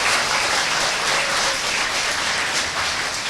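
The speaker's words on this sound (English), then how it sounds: "Let's give them a big round of applause." A large audience gives a continuous, full round of applause for the speakers at the close of a program. The clapping sounds even and dense throughout, with no talking over it.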